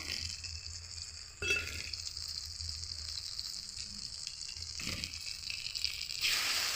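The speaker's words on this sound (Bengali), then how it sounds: "এবারে ভালো করে এগুলো একটু হালকা পরিমাণ ভেজে নিচ্ছি" Salt, turmeric and chili powder fry lightly in a pan for a village-style stuffed pointed gourd dish, a soft steady sizzle with occasional louder scraping stirs.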